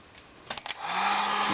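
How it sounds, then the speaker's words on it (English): A few light taps come first, then a heat gun switches on to warm embossing powder, rising into a steady, close, airy whine and rush that holds to the end. "shoot it with a heat gun"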